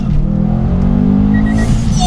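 Subaru Impreza RB320 pulling hard through first, second and third gears, a loud close engine roar with rising pitch and a shift break toward the end.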